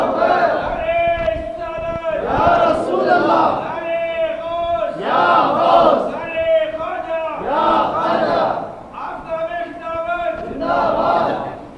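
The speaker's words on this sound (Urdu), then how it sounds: "یہ دل سے نعرے لگاؤ، سرکار کی مدد آتی ہے." Crowd at a Milad un Nabi religious gathering in a mosque chants slogans in loud repeated call-and-response waves, a lead voice alternating with the massed answer, continuing steadily throughout.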